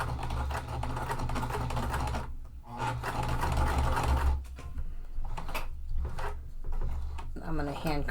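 Hand-cranked sewing machine stitching a plastic-lined wallet, a steady mechanical whirr and clatter running for several seconds, pausing briefly, then resuming in short bursts with rhythmic needle ticks.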